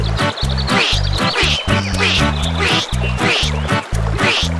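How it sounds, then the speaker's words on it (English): Harsh, rapid duck quacks repeat in a steady run, loud and close, a rasping honk sounding again and again. "a hoarse quack comes from below Mama Duck. Quack!"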